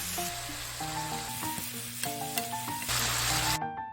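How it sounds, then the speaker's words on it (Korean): Beef and mushrooms stir-fry with soy sauce and sugar in a steady, dense sizzle, with scraping stirs and a few clicks of utensils, while a bright melodic tune plays and cuts off abruptly near the end. "맛간장 2스푼에 설탕 반 스푼 넣어 잘 섞어가며 볶아줍니다"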